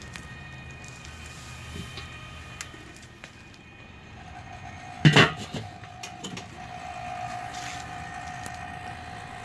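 A rotisserie motor turning a rib roast clicks on and settles into a faint, steady electric whine that continues alone under quiet room ambience.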